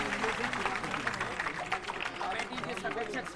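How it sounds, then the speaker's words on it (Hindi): An assembly at a religious gathering breaks into loud, sustained applause, dense clapping and crowd noise carrying on steadily throughout, with voices mixed in. "जोरदार तालियां बजा दें"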